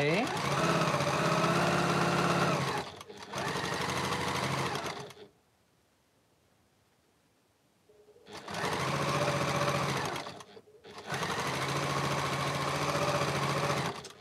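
A sewing machine stitches quilt blocks in chain piecing, running in two loud close bursts with brief pauses between, a quiet gap in the middle, then two more bursts.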